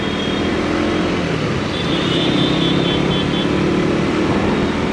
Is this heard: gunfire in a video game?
no